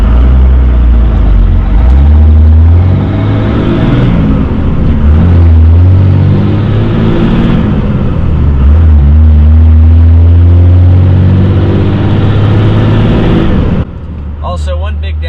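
A loud 12-valve diesel truck engine, louder than usual, rumbles steadily with a deep, heavy idle, its tone swelling slightly, then dropping off abruptly near the end.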